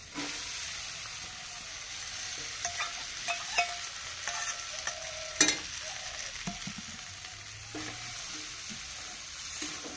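Potatoes and taro being stirred into tomatoes frying in hot oil, a steady sizzle broken by scraping spoon strokes and a few sharp clinks, moderately quiet with no talking.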